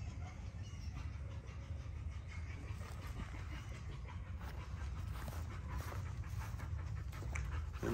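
Steady, rapid panting of dogs up close, continuous for several seconds over a low rumbling background, with a faint whimper now and then.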